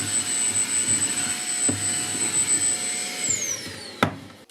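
A Makita 40V CL001G cordless stick vacuum runs on its lowest speed setting, giving a steady, fairly close whine and airy hum with a brief bump near the end as it picks something up.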